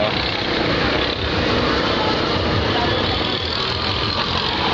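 A cable car's engine runs as a continuous loud mechanical rumble and hiss, steady and close for the whole stretch.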